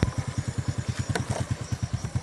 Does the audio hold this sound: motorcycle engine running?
yes